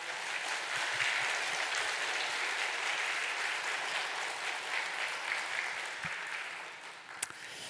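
Steady applause from a church congregation fills the room, a dense, even wash of many hands clapping at moderate distance for several seconds, with one sharper clap standing out near the end.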